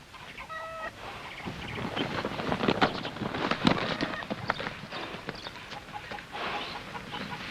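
Horse hooves clip-clop in a rapid, uneven patter in a Western film scene, close and fairly loud, with clucking chickens and other farmyard bustle mixed in.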